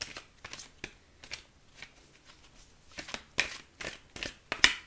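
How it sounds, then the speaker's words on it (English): Oracle cards from the Wisdom of the Oracle deck being shuffled by hand, a series of quick papery riffles and flicks, soft and close, growing busier and slightly louder toward the end with no talking. "we'll pull you a card from the Wisdom of the Oracle"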